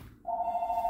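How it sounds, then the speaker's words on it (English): A telephone rings in a home kitchen, one steady electronic tone starting abruptly after a short silence and holding to the end, fairly loud and alone. "Excuse the phone ringing."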